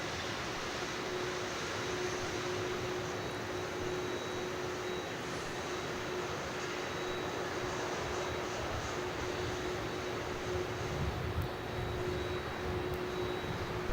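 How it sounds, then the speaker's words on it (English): A Jetstar airliner landing at Melbourne Airport gives a steady, distant jet roar with a faint constant whine, even and continuous with no talking. "I'm just watching Jetstar land at the moment."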